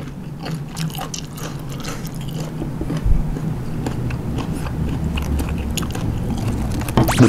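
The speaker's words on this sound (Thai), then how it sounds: "กรึบกรึบเคี้ยวเพลินดีครับ" Crunchy tako octopus being chewed near the mouth, a rapid stream of crisp clicking bites with irregular rhythm, loud and close, no talk.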